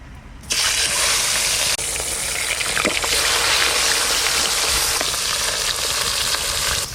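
Fish drops into well-heated oil and fries with a loud, continuous sizzle that starts abruptly and holds steady, close up, with no talking.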